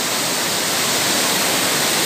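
A private waterfall in a warm outdoor setting, its water pouring as a loud, steady, even rush that fills the whole stretch without any voices.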